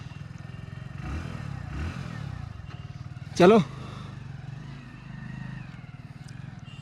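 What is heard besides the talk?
Hero Splendor Plus motorcycle starting and riding off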